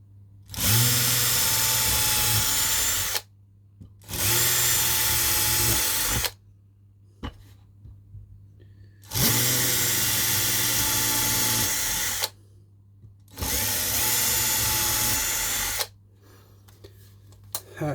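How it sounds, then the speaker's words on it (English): Drilling through two lined-up wooden boards for a handmade diorama, the power drill whirs loudly in four separate bursts of two to three seconds each, separated by short silent pauses, close and with no speech. "Drill that through."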